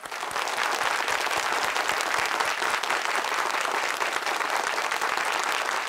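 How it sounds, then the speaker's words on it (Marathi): A studio audience on the Marathi quiz show Kon Honaar Crorepati applauds for a contestant, with dense, loud, sustained clapping from a large crowd that fills the whole stretch without any talk. "एकदा जोरदार टाळ्या त्याच्यासाठी"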